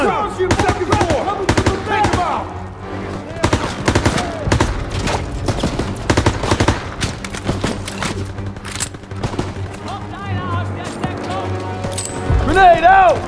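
Rapid machine gun fire rattles from a second-floor position in a Call of Duty WWII battle, dense bursts mixed with other gunshots and booms while soldiers shout over the din throughout.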